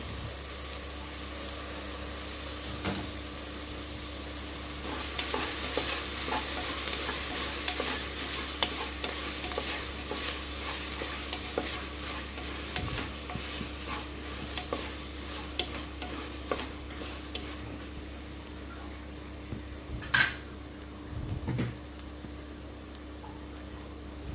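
Chopped tomatoes sauté in a pan for a mutton bone rasam, giving a steady, soft sizzle close by, broken by scattered clicks and scrapes of a stirring spoon, with no voices.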